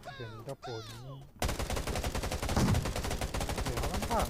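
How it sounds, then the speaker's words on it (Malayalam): Rapid bursts of automatic gunfire rattle in a video game, starting abruptly after a voice speaks briefly, then continuing densely and loudly to the end. "എവനെന്താ വെടി വെക്കണ?"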